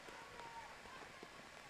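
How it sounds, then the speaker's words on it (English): Heavy rain pours down steadily during a women's college soccer match in Providence, a faint and even hiss with no breaks, laid under the commentary. "the rain continuing to just pour down here in Providence"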